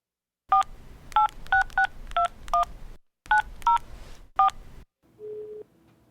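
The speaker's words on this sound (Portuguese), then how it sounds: "Nós vamos tentar um novo contato agora por telefone." A telephone number is keyed in as a quick run of crisp DTMF tones in short bursts with brief gaps, followed by a single steady tone near the end.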